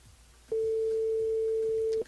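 A single long telephone tone sounds while a radio host calls a listener on her mobile, a steady pure beep held for about a second and a half at clear, even loudness over quiet background.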